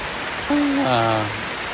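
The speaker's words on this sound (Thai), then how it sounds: "ฝนก็ลงแรงกว่าเดิมอีกที" Heavy rain pours over a vegetable garden in the rainy season, a dense, steady hiss filling the whole stretch. A voice speaks briefly over the downpour.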